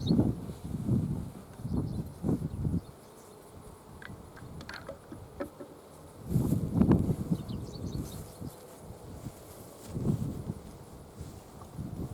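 Honeybees hum around backyard hives being inspected with a smoker, a low droning buzz that swells and fades in several bursts, close to the listener, with quieter gaps between.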